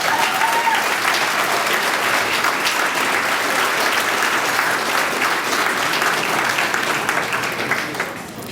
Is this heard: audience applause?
yes